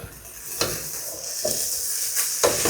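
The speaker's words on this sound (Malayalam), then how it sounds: "ചോറിട്ടിട്ട് നല്ല രീതിയിലാണ് മിക്സ് ചെയ്യുക." Cooked rice being stirred and mixed in a hot pan with egg chammanthi, steady sizzling broken by several distinct scraping strokes of a utensil against the pan, close and loud.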